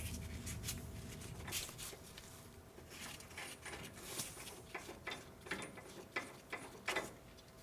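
Wrench loosening the nuts on a sway bar end link of a 1980-1996 Ford Bronco or F-150, giving repeated close ratcheting clicks and metallic ticks in uneven bursts with no talk.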